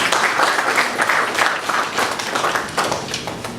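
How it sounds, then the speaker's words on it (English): Audience applause at a power-sector conference, dense sustained clapping from a crowd that swells and holds at full volume with no talk over it. "A round of applause for Rumunda."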